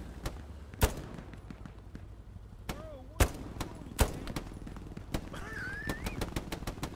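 Sporadic gunfire from the World War II shooter Hell Let Loose: several sharp, separate shots at irregular intervals, some near and some distant, over a quiet outdoor ambience with bird calls.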